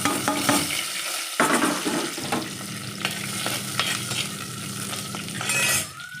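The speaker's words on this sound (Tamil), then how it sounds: "கடுகு வத்தல் போட்டுட்டு" Mustard seeds and dried chillies sizzling in hot oil in a pan, a steady, close frying hiss with light scraping and stirring clinks throughout.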